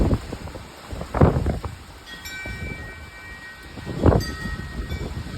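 Strong windstorm ahead of a severe thunderstorm, blowing dust around outdoors, with loud roaring gusts that swell and fade, peaking twice, over a constant rushing background.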